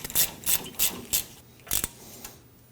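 Ratchet clicks while a bolt is snugged down on a rear ABS wheel speed sensor of a 2009-2014 Ford F-150: five or six short, close clicking bursts in an uneven rhythm, then fading to quiet.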